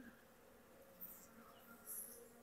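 Honeybees in a freshly opened hive produce a low, steady drone, very faint and continuous, with a couple of brief closer buzzes as individual bees pass by.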